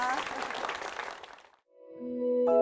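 A church congregation gives a burst of applause at the close of a service, a dense wash of clapping that fades out, followed by a sustained organ-like tone.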